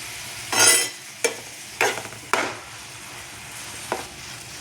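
Curry leaves go into hot oil for a cauliflower curry, bursting into a loud sizzling crackle, then a few sharp spatters and stirring scrapes against a quieter background sizzle.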